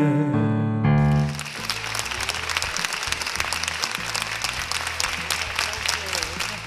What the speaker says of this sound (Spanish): Fortísimo aplauso que suena